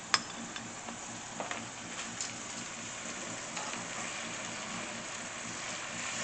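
Fish sears in a cast iron pan with a constant, fairly quiet sizzling hiss. A few light clicks and taps sound early on, and the frying then continues steadily.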